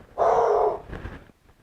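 A dog gives one loud, close bark followed by a quieter muffled second bark or huff, in a garage setting while a 1957 Chevy is being worked on.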